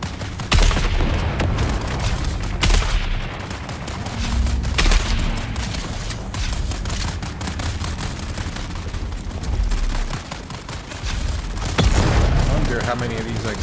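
Players trade gunfire in the video game Dune Awakening, loud continuous shots and booms layered densely throughout, with a voice talking over the fighting.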